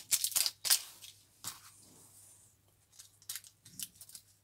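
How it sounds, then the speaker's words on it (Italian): A small plastic parts bag is rubbed open between thumb and forefinger, giving close, sharp crinkling and rustling bursts in irregular clusters with quiet gaps between them. "Apertura facilitata del sacchetto col dito pollice e dito indice, sfregamento, ecco qua."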